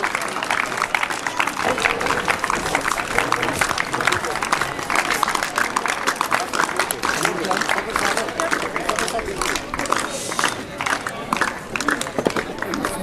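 Audience applause and crowd noise at a cadet appointment ceremony welcoming a CEO to the stage, a steady dense wash of clapping and murmuring that holds throughout without letting up.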